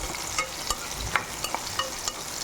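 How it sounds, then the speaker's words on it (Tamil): Raw plantain slices frying in hot oil give a soft, continuous sizzle, broken by a series of small crackles and pops, faint and close. "வாழைக்காய் வந்து இந்த எண்ணெயில் போட்டேன்"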